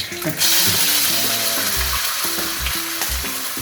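Garlic fries in hot reused fish-frying oil, a loud, close sizzle with spatula scrapes and stirring knocks throughout.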